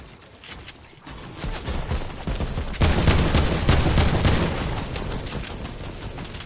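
Video game gunfire in a popup cup duo match, a dense burst of rapid shots swelling after the first second and staying loud and steady, with no talk over it.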